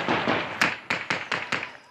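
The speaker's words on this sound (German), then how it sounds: "Die Taliban schießen in die Luft, um die verzweifelten Menschen vom Flughafengelände in Kabul zu vertreiben." Several sharp gunshots ring out in quick irregular succession as Taliban fighters fire into the air near the Kabul airport grounds to drive back crowds, with a murmur of voices beneath.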